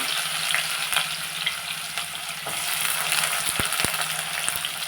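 Onions and dried chillies fry in hot tempering oil for a potato palya, a continuous close sizzling crackle with occasional sharp pops and clinks of a utensil against the pan, no voices.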